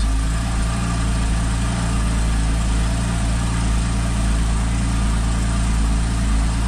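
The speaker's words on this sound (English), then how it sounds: "I'm going to start this one now so you can hear the difference" A Porsche 981 Cayman S engine, started cold with the standard exhaust, runs steadily at idle, a constant low rumble with a faint higher whine, no revving and no voices.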